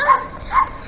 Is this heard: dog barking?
yes